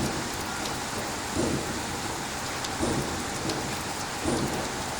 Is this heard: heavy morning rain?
yes